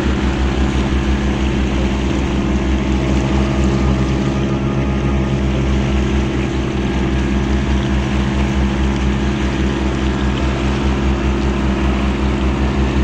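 A struggling bangka boat engine at Matabungkay, Batangas drones loudly and steadily up close, its low throbbing hum unchanging throughout with a rushing noise layered on top.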